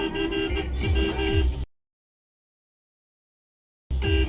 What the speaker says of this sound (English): Like, start honking now.